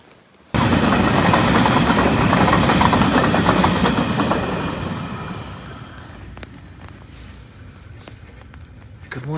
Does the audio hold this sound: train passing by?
yes